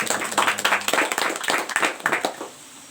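A small gathering at a youth discussion forum breaks into brief clapping, a few quick bursts of hands that taper off after a couple of seconds.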